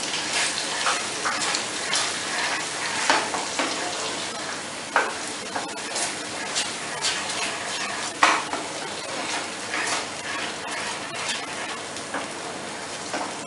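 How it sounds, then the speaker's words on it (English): A methi matar mushroom malai gravy bubbles and thickens in a pan while a spoon stirs it, a soft sizzle punctuated by repeated scraping and clinking knocks against the metal, with no talking. "Now you have to cook this mixture till it becomes thick."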